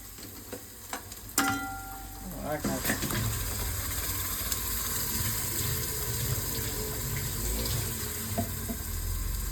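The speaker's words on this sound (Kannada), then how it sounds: "ಸ್ವಲ್ಪ ನೀರು ಹಾಕ್ಬೇಕು. ಇದನ್ನ ತೊಳೆಯಮ್ಮ. ಜಾರಿಗೆ ನೀರು ಎಲ್ಲ ಸಾಕು." Tap water runs steadily into a grinder jar to rinse it in a home kitchen while green masala egg is being cooked, a continuous splashing stream at moderate level with a sharp clatter near the start.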